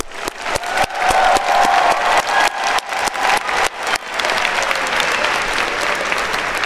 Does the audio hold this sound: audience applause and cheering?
yes